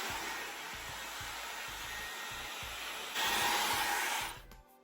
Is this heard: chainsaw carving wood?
no